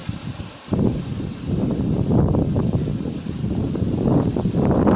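Strong wind gusts through an old cemetery and buffets the microphone with deep, rumbling roars. The gusts swell and surge continuously after a brief lull near the start.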